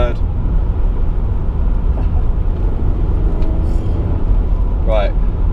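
A V6 Vauxhall Omega on the move gives a continuous low engine drone and road rumble, with someone talking over it throughout.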